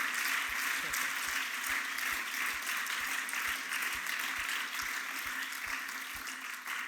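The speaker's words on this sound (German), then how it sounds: "Lass uns doch einen Applaus geben" An audience at a Christian faith event claps for a guest named Joel, a fairly soft, steady patter of applause with faint rhythmic low thumps underneath.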